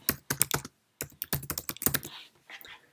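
Quick bursts of typing on a Mac keyboard while entering an email subject, crisp close key clicks in short runs separated by a brief pause.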